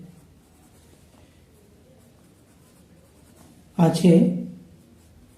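Pen scratching numbers onto paper during a class 8 percentage maths lesson, a short burst of close strokes after a voice speaks.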